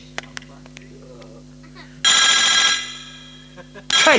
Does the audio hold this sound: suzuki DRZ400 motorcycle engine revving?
no